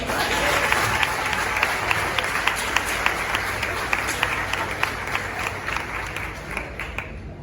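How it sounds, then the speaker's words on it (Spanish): A congregation at a church retreat gives sustained applause, a thick wash of many hands clapping at moderate distance with a few sharper individual claps standing out, steady for several seconds before easing slightly. "Un aplauso al Señor."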